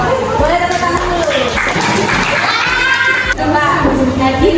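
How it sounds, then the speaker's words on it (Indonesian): A class of schoolchildren claps together in a classroom, the applause loud and close and mixed with excited children's voices and shouts throughout. "Boleh tepuk tangan dulu."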